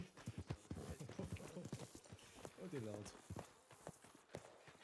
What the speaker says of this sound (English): It's a goddamn horse.